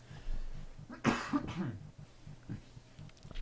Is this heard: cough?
yes